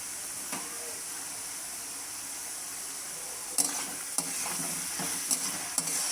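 Lightly pre-fried prawns sizzle in a pan, a constant hissing fry with occasional sharp scrapes and knocks as they are stirred, close and moderately loud.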